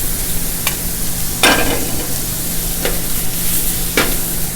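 Mushrooms and onions sizzle steadily in a frying pan for a cheesesteak, with a few distinct scraping stirs of a utensil cutting through the constant close frying hiss.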